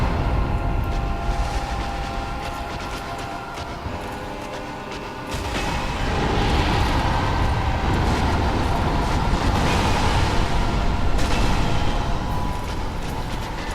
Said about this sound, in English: When she bows over the front of it like that, you know it's going to do the explosion.